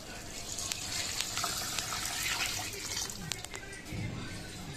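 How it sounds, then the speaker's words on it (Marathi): Water poured into a pot of rice and mung dal for khichdi, a continuous gushing, splashing flow heard close up with faint kitchen background noise. "आपल्याला लागेल तेवढं व्यवस्थित आपल्याला पाणी टाकून घ्यायचंय"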